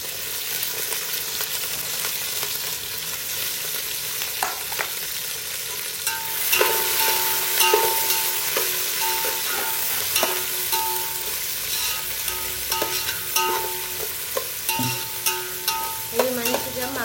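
Onion, green chilli, carrot and beans frying in a pan, with a steady close sizzle under repeated spatula scrapes and clinks, continuous and fairly loud, no voices.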